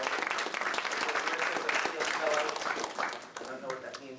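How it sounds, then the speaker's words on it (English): A full round of audience applause for panelists at a pitch challenge kick-off, dense clapping throughout, with voices talking over it. "Big round of applause for Ali Esslinger, Marissa Branlow,"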